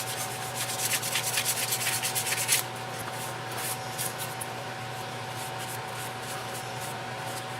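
Steady rubbing and scraping of 220-grit sandpaper smoothing the finish on a utility knife, louder in the first few seconds and then continuing more softly over a constant low background hum.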